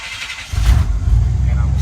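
A cold car engine starts up after a brief crank, settling into a steady low idle rumble that carries loudly to the end.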